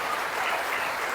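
A church congregation breaks into steady, dense applause, many hands clapping together at a moderate distance with no voices rising above it.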